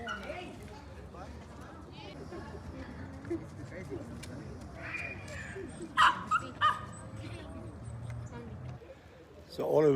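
Dogs yip and bark in a busy park with families around, scattered short barks over a murmur of voices and background activity, and one sharper burst near the end.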